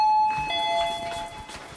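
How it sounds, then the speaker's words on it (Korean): A doorbell chimes indoors, a clear electronic ding with bright sustained tones ringing out over about two seconds, loud and close, no talk over it. "반가운 초인종 소리"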